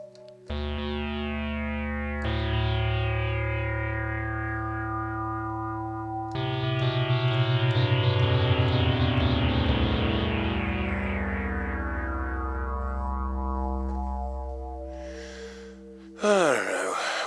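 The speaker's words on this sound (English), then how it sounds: "This is called Hollow Resonator." Synth run through the Oxid plugin's Hollow Resonator effect, sustained droning chords with a shift at a couple of points, rich, buzzy and ringing with echoey resonance, ending in a brief sweeping noise burst.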